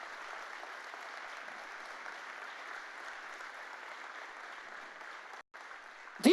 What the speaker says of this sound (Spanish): Fuerte ese aplauso a Jesucristo